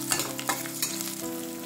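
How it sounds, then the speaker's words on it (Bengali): Dried red chillies, green chillies and whole garlic cloves fry in a pan, a loud steady sizzle with scraping stirs and clinks over a low hum, no voices. "এবার সবকিছু একটু ফ্রাই করে নিচ্ছি।"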